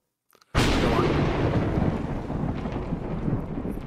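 A thunder sound effect: a sudden loud crack followed by a long rolling rumble that slowly fades, heard alone without speech.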